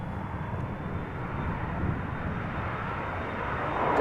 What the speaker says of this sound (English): I'm also hearing a bizzjet taking off from runway 22.